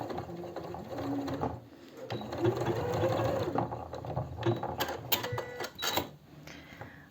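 Domestic sewing machine stitching in the sleeve of a women's plus-size summer dress, a steady close whirring hum with short pauses and restarts, loud and alone without talk.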